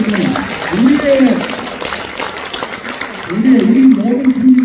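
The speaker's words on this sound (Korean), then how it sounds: "박수." Lecture audience breaking into applause after a speaker's remark, a swell of crowd clapping that rises, dips and rises again, with a voice sounding over it at times.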